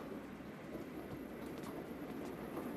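An elevated train rides along the tracks with a low, steady rumble and faint rattling, a quiet and continuous rolling noise heard from inside the carriage.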